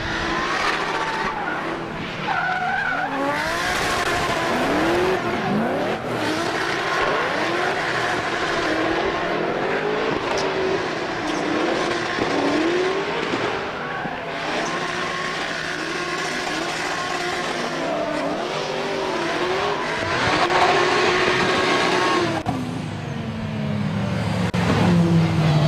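Race cars start a touge run, led by a Nissan 350Z with a supercharged LS3 V8. Engines roar loud and close, revving hard with rising and falling pitch sweeps and tire squeal, and continue throughout with no talking.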